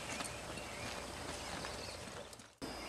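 Horses walk a wilderness trail in the Sawtooths, their hooves producing a steady clip-clop close by, with constant outdoor rustle underneath and an abrupt cutoff near the end.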